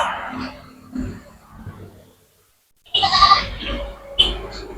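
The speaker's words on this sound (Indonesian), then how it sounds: "Rupanya kambing ini berteriak." A goat bleats loudly at close range, a few wavering cries separated by short pauses, with other voices faintly in the background.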